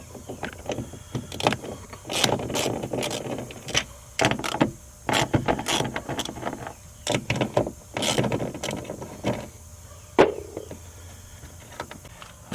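Small 10mm bolts being loosened from the driver's side door mirror of a 2010 Cadillac STS, with a run of ratchety clicks and short mechanical bursts in uneven spurts, close and fairly quiet, no talking.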